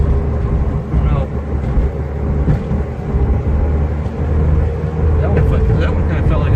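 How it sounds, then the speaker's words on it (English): Front suspension of a Toyota AE86 clunking hard on a test drive, with irregular knocks buried in steady road and cabin rumble from the moving car. "Got a kind of a clunking noise. Kind of really hard. It's coming from the front suspension, I guess, somewhere."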